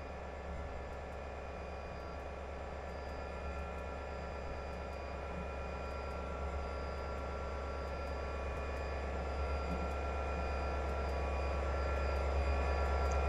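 An EMD SD40-2 diesel locomotive in Southern Pacific livery passes in Train Simulator 2017, a steady deep engine drone with a constant low rumble that slowly swells louder toward the end.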